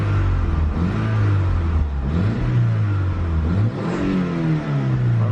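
A Mitsubishi Galant VR4 engine near operating temperature runs steadily with a low, loud idle drone that swells in a few gentle rev rises and falls, with no talk over it.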